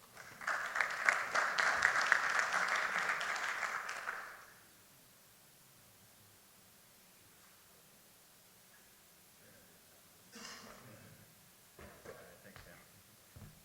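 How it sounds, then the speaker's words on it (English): A conference audience applauds a guest speaker, a dense burst of clapping for about four seconds that cuts off, followed by a quiet room with faint rustles and brief distant voices. "So please give a round of applause for my friend Peter Righi."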